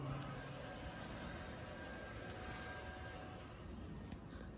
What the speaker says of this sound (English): There's an annoying pump the neighbor has that keeps on running